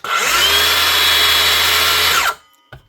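A Dewalt 18-volt brushless circular saw whines at full speed for about two seconds, loud and close with a steady high tone, then spins down and stops, followed by a brief click.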